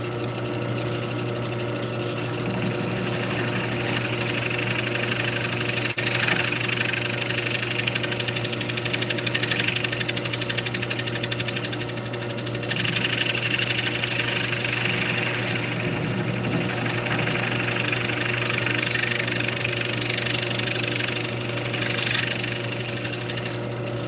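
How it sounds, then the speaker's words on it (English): A bowl gouge cutting cedar on a spinning lathe, heard as a continuous, close mechanical hum and whirr with a steady low drone and rhythmic chatter that holds evenly for the whole stretch, with no talking. "Let me bust out the old bowl gouge, which cool thing about cutting cedar is you don't dull them down real quick"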